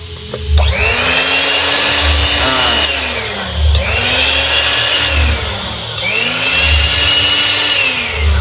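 A repaired electric blender that had stopped working entirely runs on test with a loud, close motor roar that swells and dips in three repeating surges, with no voices over it.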